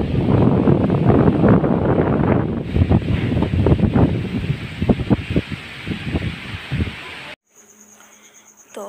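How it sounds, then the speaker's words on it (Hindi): Strong wind buffets the microphone in loud, roaring gusts with light rain, then cuts off abruptly near the end, leaving a quiet background. "तो हवा बहुत तेज़ है"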